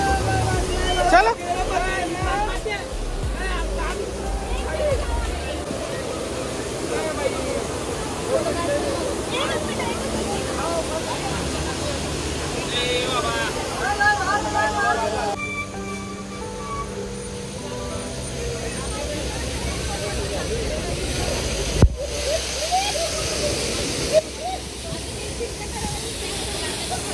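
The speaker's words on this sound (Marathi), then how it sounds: "बघा धबधबा बघा." A monsoon waterfall at Malshej Ghat roars as a broad, steady rush of water that continues throughout, with people talking nearby and a few brief knocks.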